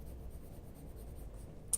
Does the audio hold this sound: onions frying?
no